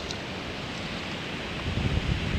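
Steady sea wind on the coast rushes past with a soft, broad hiss and some low buffeting, constant for the whole stretch with no voices.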